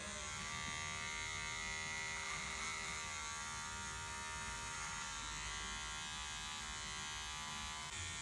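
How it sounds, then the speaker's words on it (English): Electric hair clippers cut facial hair during a barber's self-trim, giving a steady, close mechanical buzz with a rich whine. The buzz runs unbroken throughout with only slight changes in tone and no speech. "I can hear the hair cutting."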